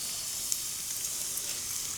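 Pancake batter sizzles in a pot over a campfire at an overnight canoe camp on the Norfolk Broads, a steady close crackling fry with small pops and no voices.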